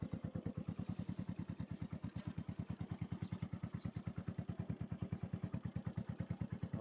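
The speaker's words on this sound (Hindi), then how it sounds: "होंडा की है, होंडा CD110, 15 मॉडल।" A 2015 Honda CD110 motorcycle engine runs at a steady idle, its single-cylinder putter thumping in a fast, even rhythm close by, with a light mechanical clatter and no talking over it.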